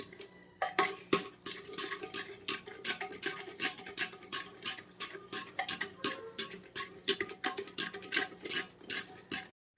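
Cooked greens (bhaji) being stirred and mashed in a metal pot, a steady run of quick scraping and clinking strokes of a spoon against the pot, close and alone.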